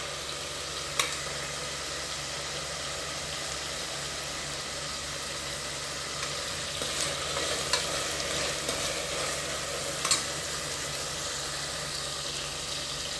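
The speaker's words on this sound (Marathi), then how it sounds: "जरा मऊसर होईपर्यंत मी परतून घेणार।" Vegetables for varan sauté in a hot pan with a steady close sizzle, and faint stirring clicks are heard now and then over the continuous frying hiss.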